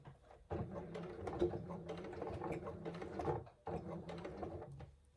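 Sewing machine back stitching along a bag seam, a quiet, steady mechanical whir with rapid needle clatter, briefly pausing before resuming the run.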